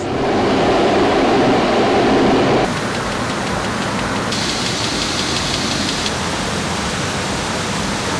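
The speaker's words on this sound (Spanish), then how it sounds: "entra a esas máquinas que están a mis espaldas, que se llaman la prelimpieza" Rice grain pre-cleaning machines with sieves running in a processing plant, a loud steady mechanical roar with broadband rushing noise that shifts in tone partway through, no speech.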